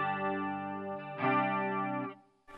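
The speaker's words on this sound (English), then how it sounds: "I'm going to put a bit of chorus on there" Sustained electric guitar chords through a Marshall MG100FX amplifier with a shimmering, swirling chorus effect, one chord ringing then another struck, fading out before a brief new note.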